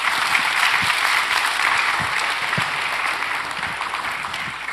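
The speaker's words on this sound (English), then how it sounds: "Let's give them a round of applause." An audience claps for a panel of doctors at a cancer conference, a steady, dense round of applause from a full room that carries evenly throughout, with no voices over it.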